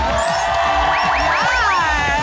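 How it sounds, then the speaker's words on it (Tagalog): Studio audience on a Filipino afternoon TV talk show erupting in loud applause and shouting, a dense continuous roar with whoops and cheers rising over it, close and sustained throughout. "Grabe, yung mas malakas sa palakpakan at sigawan!"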